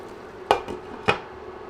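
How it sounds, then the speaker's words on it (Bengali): Prawn pulao is stirred in a pot with a spoon, giving two or three brief scraping knocks against the cookware over a faint background hiss, close and moderately loud, without speech. "এখন নেড়ে সব কিছু মিশিয়ে দিচ্ছি"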